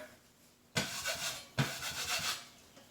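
A drywall blade scrapes small burrs off a wall in two quick, harsh strokes, each a sharp rasping scrape close to the listener with a brief gap between.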